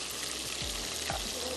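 Masala with chilli, spices and tomato puree frying and sizzling in a pan, a steady broadband hiss with a couple of soft low thuds, no voices.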